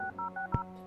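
Touch-tone keypad beeps from a phone being dialed in the point-and-click game Kathy Rain, four short dual-tone presses in a quick steady rhythm, clean and close with no voices.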